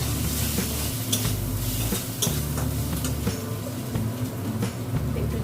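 Turmeric and cumin hitting oil in a hot pan, a loud close sizzle with stirring clatter from a utensil against the pan in a home kitchen.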